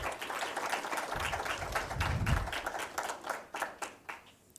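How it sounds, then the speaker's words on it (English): An audience claps for a lecturer just introduced at an annual symposium public lecture, a dense round of clapping that thins into scattered, separate claps before fading out. "Please give Dr. Wanja a round of applause"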